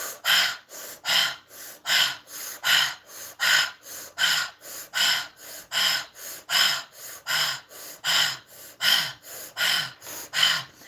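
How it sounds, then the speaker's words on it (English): Heavy rhythmic breathing exercise for pain release, roughly fifteen loud, close, forceful breaths in a steady cycle of sharp inhales and gusty exhales, heard alone without talk. "We're going to start breathing."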